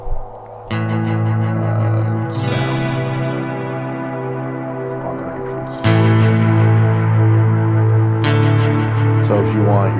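Sustained, distorted electric guitar chords through an oil can delay pedal, ringing out with echoing repeats, a new chord struck every few seconds with a bright attack.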